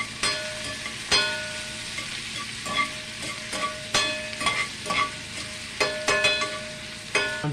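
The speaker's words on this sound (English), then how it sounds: "Put into the skillet and let that cook until it gets translucent." Chopped onions frying in a skillet with a steady close sizzle, broken by sharp scraping clicks of a utensil stirring every second or so.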